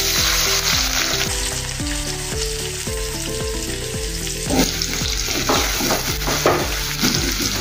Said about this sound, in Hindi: तेल गरम हो गया है। अभी हमने कटर में बारीक किया है प्याज को, वो इसमें डाल देंगे।